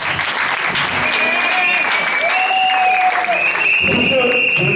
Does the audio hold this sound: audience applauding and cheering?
yes